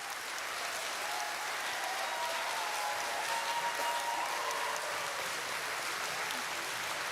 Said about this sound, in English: Please stop the applause.